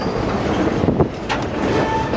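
Verde Canyon Railroad excursion train cars rolling on rails, heard from between two cars as a loud continuous rumble with rhythmic clicks and brief squeals, with no talking.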